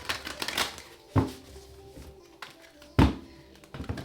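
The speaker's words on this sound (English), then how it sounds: "Two more shuffles." Tarot cards being shuffled by hand, a few riffling bursts and sharp taps as the deck is split and knocked together, close and fairly quiet.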